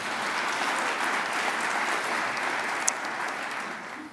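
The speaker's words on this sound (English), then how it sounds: "So I think that deserves a round of applause" Steady, moderately loud applause from a college meeting audience, a continuous wash of clapping with one sharp louder clap standing out partway through.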